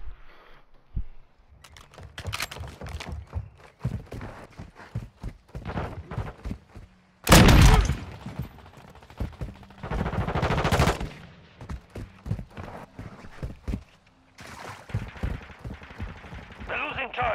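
Repeated bursts of automatic gunfire in the Call of Duty Modern Warfare 2 beta multiplayer, loud close volleys alternating with scattered shots, mixed with game sounds and occasional talk.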